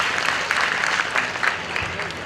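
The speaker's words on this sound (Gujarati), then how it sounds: "એકવાર જોરદાર તાળીના ગણગડાટથી બતાવો" An audience at a foundation's community get-together bursts into loud, dense clapping that stays steady for the whole moment.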